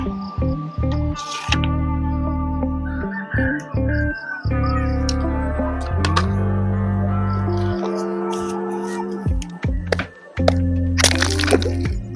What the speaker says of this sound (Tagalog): Basag po mga kapores.